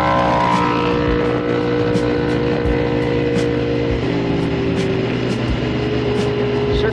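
A car speeds past on a rural road posted at 45 mph, a loud, sustained engine roar that holds close for several seconds before its tone shifts and drops.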